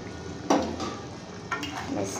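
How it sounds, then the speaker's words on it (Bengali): Chicken cooking in a pan just after water is poured in, giving a steady hiss with a sharp surge of sizzle and a second burst moments later, close and moderately loud. "তো গাইস, এখানে আমি এবার জল দিয়ে দিলাম।"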